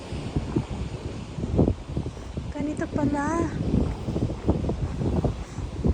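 Waves breaking against a rocky shore on a windy coast, a continuous rough wash with surges and gusty buffeting, while a person talks briefly nearby and a short whistled tone rises and falls in the middle.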